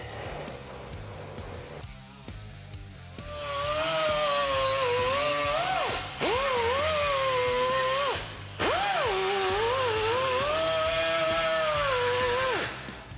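A thin 0.035-inch cutoff wheel grinds through a metal rub rail in three sustained, loud, whining cuts, each pitch sagging under load before it spins free, with no talking over it.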